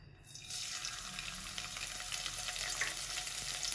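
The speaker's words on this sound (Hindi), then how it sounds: "बस इसको हमने हल्का सा सौते करना है, ज्यादा नहीं पकाना" Crushed garlic, green chili and cumin sautéing in a pan over low heat, a soft steady sizzle that starts abruptly and holds close and even, heard alone without talk.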